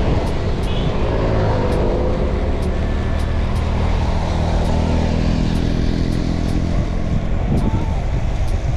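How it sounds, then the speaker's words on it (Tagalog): Cars overtake on a mountain road climb, their engines droning and swelling past amid loud continuous wind buffeting from a moving rider, with faint voices underneath. "Yung mga nag-overtake na mga auto"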